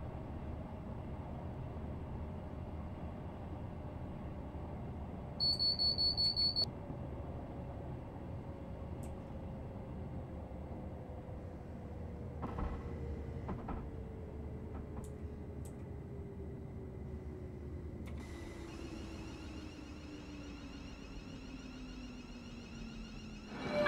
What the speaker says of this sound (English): brake sounds quite loud